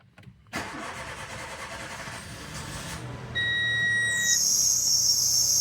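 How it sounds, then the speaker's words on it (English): A car engine cranks and catches in a garage, its start giving way to a steady idle hum, with high electronic tones coming in over it toward the end. "car should be able to start now"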